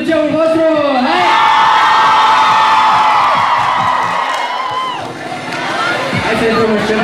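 A crowd at a high school freshmen's ball cheers, whoops and shouts loudly and steadily for several seconds, with many young voices yelling together.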